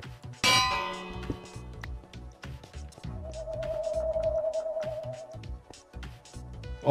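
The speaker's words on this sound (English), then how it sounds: "Bell." A bell rings in a modded Minecraft game with a sharp metallic clang followed by a lingering ringing tone, among other clattering game sounds.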